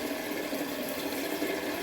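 Cold water runs steadily from a tap, a continuous close hiss and splash with no voices.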